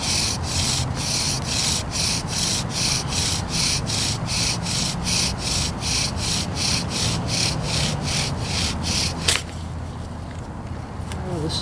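A redwood bow drill spindle from dead standing timber rubs in fast, even back-and-forth strokes, about two per second, a dry rasping friction that stops abruptly near the end, fire by friction attempted in wet conditions.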